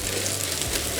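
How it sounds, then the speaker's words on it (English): Mushrooms, onion and bacon frying in a pan over full heat with a little avocado oil, being stirred: a steady, close broadband sizzle with low scraping underneath, no talk. "so we're just gonna give it a stir"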